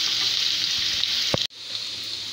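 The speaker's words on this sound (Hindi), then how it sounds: "जब तक प्याज फ्राई हो रहे हैं" Thinly sliced onion frying in hot mustard oil, a continuous close sizzle with a brief stir or clatter before the hiss dips and settles back in.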